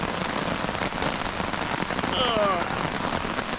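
Steady rain drums on a hammock tarp at a campsite, a dense continuous patter close overhead with no talking.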